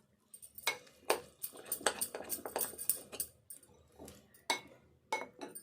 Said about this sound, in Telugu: అంతా కలిసేటట్టు ఇట్లా కలుపుకోవాలి.